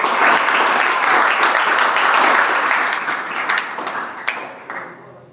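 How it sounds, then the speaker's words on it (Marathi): Students at a school farewell ceremony give their teachers loud, vigorous applause that holds strong, then thins out into scattered claps and fades toward the end. "टाळ्या वाजवायच्या"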